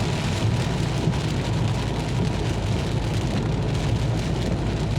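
Steady, heavy rain drumming hard on a vehicle, a dense continuous roar with a low road rumble underneath.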